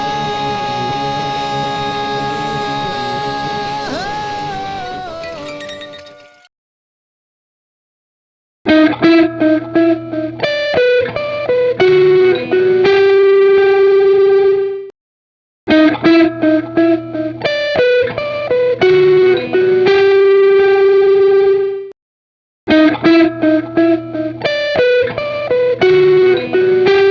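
A Champion Leccy Swan Hunter guitar effects pedal, starting with a sustained, heavily processed chord that fades to silence, followed by three bursts of rapid staccato picked notes with trailing delay repeats and short gaps between them.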